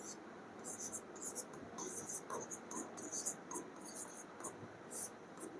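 Chalk or marker scratching on a board during a class 12 physics lesson on electric charge, a series of soft scraping strokes in bursts under quiet, low-level background and faint talk.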